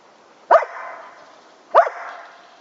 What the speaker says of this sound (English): that wasn't me, that was my dog, one of my dogs